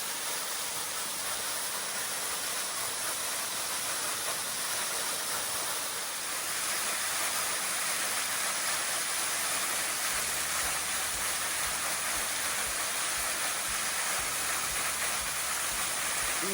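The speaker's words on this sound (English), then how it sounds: "And here is the waterfall." Bad Branch Falls waterfall at the base of a rocky canyon wall, a steady hissing roar that holds even and continuous from near by, with no voices.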